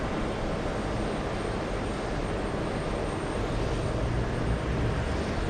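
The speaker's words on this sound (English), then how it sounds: "We have the American Airlines 737." American Airlines Boeing 737 departing, a continuous wide jet roar that stays fairly steady and swells slightly toward the end, heard at a distance with no voices.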